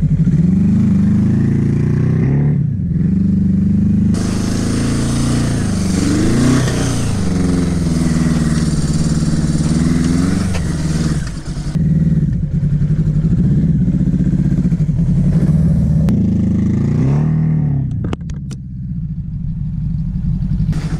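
A Suzuki GS850 scrambler motorcycle ridden around a snowy pond, its engine rumbling loudly and continuously with rising and falling revs, close and unbroken for the whole stretch.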